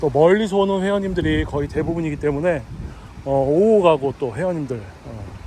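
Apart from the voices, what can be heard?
No distinct noise like a dog, phone or traffic.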